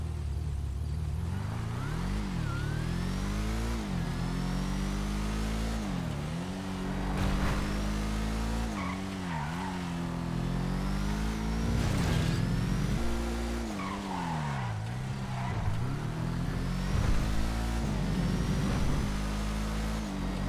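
A racing car in a racing video game skids with sustained tire squeal and roaring engine revs, rising and falling as it slides and crashes, loud and continuous throughout.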